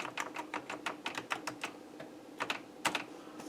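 Keys on an Amiga 1000 computer keyboard are pressed one after another in quick, uneven taps, close and fairly quiet, with no talking.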